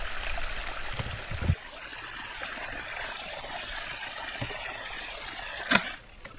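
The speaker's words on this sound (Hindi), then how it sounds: "हमारी तीसरी डिवाइस ने भी प्रॉपर तरीके से पानी को पलटा के चौथी क्यारी में कर दिया है" Water from a farm motor pump runs through an irrigation diverter device into a crop bed in a field, flowing steadily, with a couple of sharp splashes or knocks rising above the continuous trickle.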